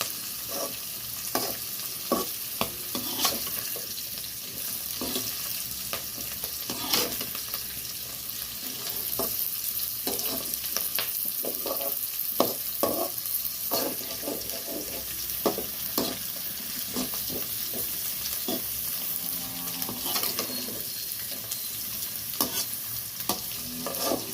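Pirandai (adamant creeper) sautéing in a pan, with a steady close sizzle and frying crackle broken by repeated stirring scrapes and knocks, no talk.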